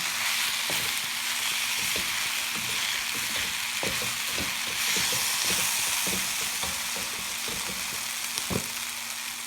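Spring roll filling sizzling in a pan while being stirred, a constant close hiss of frying with regular knocks and scrapes of the spoon against the pan.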